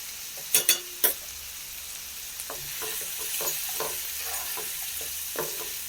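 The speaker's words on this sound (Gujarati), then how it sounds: "એને બરાબર મિક્સ કરી દઈશું" Kanda batata poha being stirred in a pan after adding salt and turmeric, with a few sharp scraping clinks of a spoon against the pan early on, then softer, steady stirring over a faint background hum.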